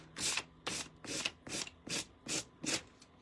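Sandpaper rubs paint off a painting in seven even back-and-forth strokes, soft scratchy swishes close by with short gaps between them and no voices.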